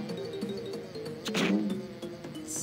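Insect-like buzzing from swarming bees in a video game, a droning hum with a louder swell near the middle, alone without talk.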